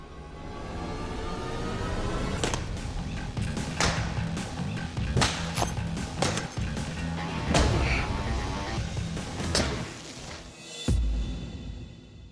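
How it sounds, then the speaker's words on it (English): A bladesmith's handmade Wild West weapon cutting into a sand-filled dummy during a sharpness test, several sharp whacking strikes spaced across the clip over steady background noise, loud and close. "I will take your weapon and cut up the Sandman"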